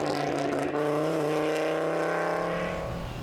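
An Audi Quattro rally car at a stage of the Irish National Rally Championship in Skibbereen, its engine roaring loud and close with a sustained droning growl that shifts pitch as it drives past.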